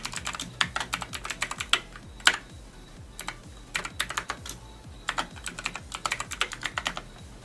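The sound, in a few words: typing email and password on a computer keyboard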